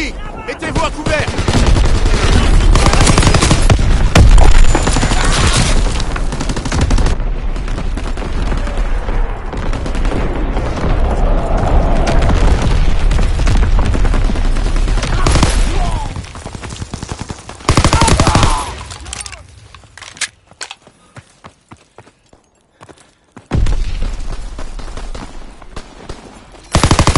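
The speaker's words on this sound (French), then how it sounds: "Tir d'artillerie ennemi, mettez-vous à couvert." Enemy artillery fire in the tactical shooter Rainbow Six: loud, dense bursts of gunfire and explosions roll on for most of the span, drop out into near silence, then return abruptly, with a faint voice now and then.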